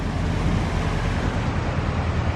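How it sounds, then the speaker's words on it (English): Heavy, steady rush of water spilling over a narrowboat canal lock at the bottom of a flight, a dense continuous roar close by with no pauses. "This lock is overflowing. That it is serious amount of water."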